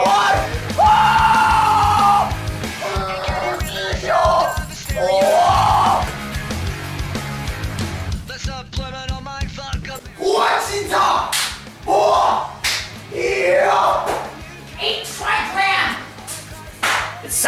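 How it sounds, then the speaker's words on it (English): Chaotic combat from the video game Dishonored 2, with loud yells, grunts and shouting voices overlapping impacts and clashes, a brief burst of rapid clatter in the middle, all close and busy. "Sounds as if they are fighting!"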